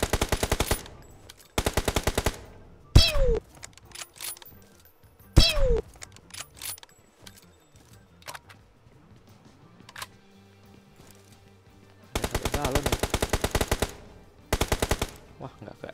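Gunfire in the mobile game PUBG Mobile, with long rapid bursts of automatic fire at the start and end and a few heavy single shots in between, loud and close over quieter in-game sounds, with no talking.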